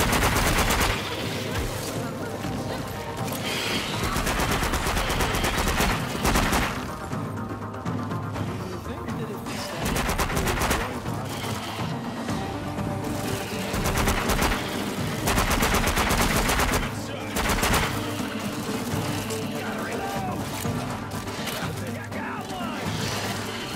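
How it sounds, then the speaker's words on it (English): Suppressive gunfire in the VR shooter After the Fall: sustained, loud automatic bursts rattle almost continuously, with brief lulls between volleys and some voice activity mixed in. "Suppressive fire."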